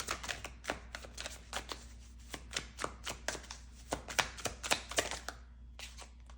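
A hand shuffles a tarot deck close by. The cards give repeated sharp slaps and riffles in a brisk, irregular rhythm over a faint low hum, and no one speaks.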